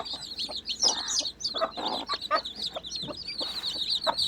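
Hens cluck repeatedly near a brood of newly hatched chicks on a farm, their high peeping chirps running continuously through the whole stretch, close by and busy.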